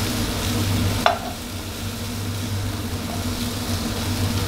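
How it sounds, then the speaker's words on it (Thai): Shrimp stir-fry in a hot pan for Thai basil shrimp, with a continuous sizzle and a sharp utensil clack early on, followed by a quieter steady frying hiss. "นี่ผัดให้กุ้งเขาเสร็จตัวหน่อยครับให้เกือบๆสุกก่อนนะ"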